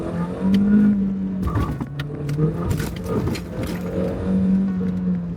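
A 1996 Volkswagen Golf GTI Mk3 with a 2-litre 16-valve engine driving close by, its engine note rising and falling with throttle, overlaid with wind and cabin clatter.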